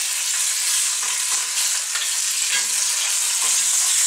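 Chicken pieces for coq au vin sizzle and fry steadily in a hot pan as they are turned, with soft stirring scrapes over a constant close crackle and no talking.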